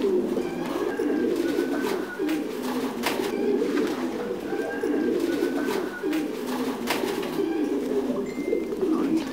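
Thai Titan meat pigeons coo steadily inside a breeding loft, a continuous low throaty cooing from many birds at close range with no voices.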